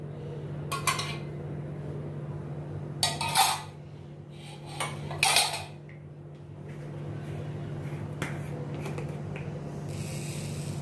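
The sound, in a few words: pan set on gas stove, oil being added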